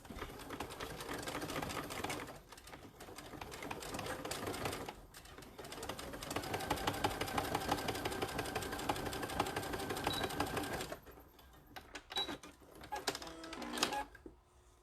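A sewing machine with a regular presser foot stitches the seam of a zipper pouch, running in long steady rattling bursts with brief pauses, close and fairly loud, ending in a few short stop-start stitches.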